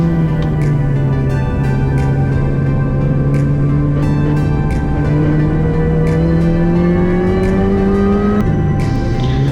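An R53 Mini Cooper S engine revs hard on a track-day lap at Oulton Park, its loud in-car drone climbing steadily through the gears with brief shift dips, close and continuous.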